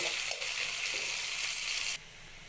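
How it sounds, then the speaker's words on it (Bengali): Onion pieces with a pinch of salt fry lightly in hot oil, giving a steady, close bright sizzle that drops slightly in level near the end, with no voices. "এবার পেঁয়াজগুলো হালকা করে ভেজে নেব"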